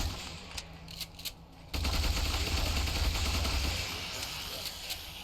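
Rapid gunfire against zombies in the video game Ultimate Epic Battle Simulator breaks out suddenly after a quieter lead-in, then runs as a dense, sustained burst of automatic shots before easing slightly near the end.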